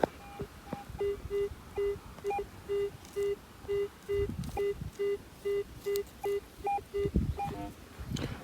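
A metal detector emits a series of short, evenly spaced electronic beeps at a steady pitch, clean and close, with a few higher chirps mixed in.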